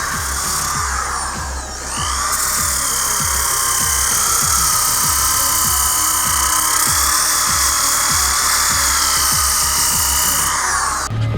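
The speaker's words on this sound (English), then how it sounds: "They're working on sanding that down so we can put some fairing on later" A steady, high-pitched whine of a power sander smoothing a boat surface for fairing runs continuously, with rhythmic scraping strokes underneath, loud and close throughout, at a marina.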